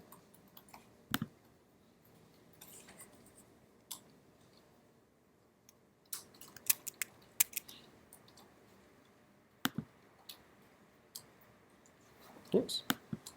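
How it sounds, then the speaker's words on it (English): Computer mouse clicking a button during a programming demonstration: scattered sharp clicks, some single and some in quick pairs, faint and close, between stretches of quiet. "So I'm clicking on a button"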